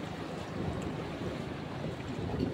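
Steady wash of waves against the shore at Sitio Paye, Luminiag, Lian, Batangas, a continuous soft roar with wind buffeting the microphone, no voices.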